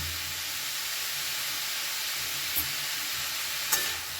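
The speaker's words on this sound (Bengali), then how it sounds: "ভালো করে এটাকে এবার মিশিয়ে নেব" Ash gourd curry being stirred in a pan over a steady sizzling hiss, with a couple of faint utensil scrapes near the end; no talking.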